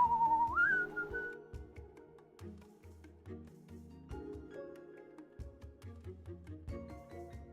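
A person whistles a melodic tune alone, clear and close, with sustained notes and slides over a soft musical backing.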